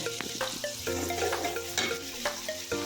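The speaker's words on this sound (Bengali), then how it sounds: "এগুলাকে ভেজে নেবেন।" Tilapia fish masala with tomato sizzling and frying in a pan, steady crackle with scraping stir strokes throughout, close and moderately loud, no voices.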